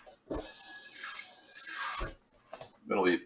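Water splashes into a cooking pot for tuna mac and cheese, a close hissing pour that rises and falls for a couple of seconds, with soft handling clatter at the end.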